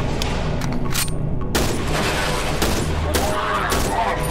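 Continuous gunfire from the horror video game Cry of Fear, a dense loud fusillade of shots and booms filling the whole stretch, with a sharp burst partway through.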